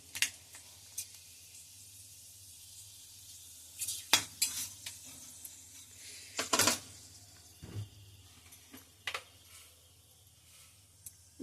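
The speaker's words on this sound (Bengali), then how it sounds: "কড়াইতে তেল দিয়ে দিয়েছি, তো দারচিনি আর লবঙ্গ দিয়ে দিলাম।" Cinnamon and cloves hit hot oil in a wok while cooking soybean muitha, giving a low steady sizzle broken by several sharp metallic clinks and scrapes of a utensil against the pan.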